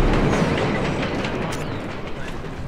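A train in the video game Splinter Cell: Blacklist gives a steady rolling rumble with faint rhythmic clatter, fairly loud and continuous, with no voices over it.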